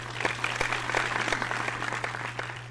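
An audience claps steadily, many hands producing a dense patter with a low electrical hum running beneath it.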